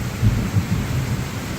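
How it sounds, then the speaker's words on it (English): Thunder rumbles low and heavy over steady rain in a garden during a thunderstorm, a continuous close wash of rainfall with deeper rolling swells, no voices. "it now is thundering and lightning"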